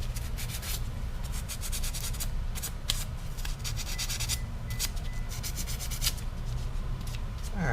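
Emery cloth rubbing surface rust off the magnetic pickup of a Husqvarna AWD mower flywheel, quick rhythmic back-and-forth scrubbing strokes, close and fairly quiet, with no talking.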